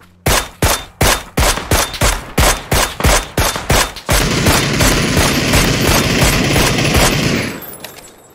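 Video game gunfire: about a dozen loud, evenly spaced single shots, then a sustained burst of rapid automatic fire lasting several seconds before it cuts off, with no voices.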